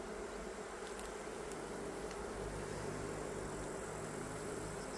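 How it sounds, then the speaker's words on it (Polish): Honeybees humming inside an opened hive during a colony inspection and honey harvest, a steady dense drone filling the space with a low continuous buzz throughout. "pszczoły sobie szumią"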